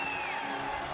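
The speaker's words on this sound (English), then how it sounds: "Crowd is going crazy." A bodybuilding crowd at the 2025 Arnold Classic men's open in Ohio roars and cheers, a dense, steady wall of whoops and applause lasting about a second.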